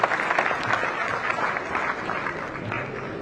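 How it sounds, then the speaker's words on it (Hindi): Audience clapping at a Vidya Bharati Rajasthan award and honour ceremony in Jaipur, a dense, steady wash of many hands filling the hall at moderate loudness, with no pause throughout. "ताली का बजाकर स्वागत कीजिए"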